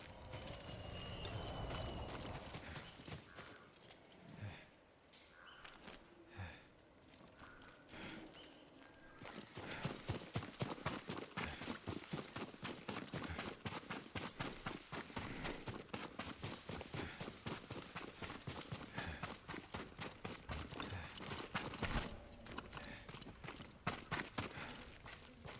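Horse hooves in Ghost of Tsushima, with an opening stretch of ambient movement, then a rapid, continuous clip-clop of a galloping horse dominating from about ten seconds on, loud and near.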